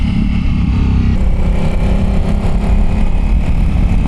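A Kawasaki Ninja H2 SX SE motorcycle fitted with a new exhaust pipe idles and revs nearby, giving a loud, steady, throaty engine rumble throughout with slight rises in pitch.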